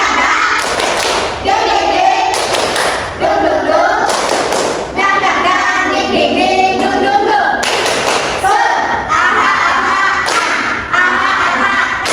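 A classroom group performing a rhythmic spirit clap chant, bursts of hand claps in a patterned rhythm mixed with voices chanting along, loud and close throughout.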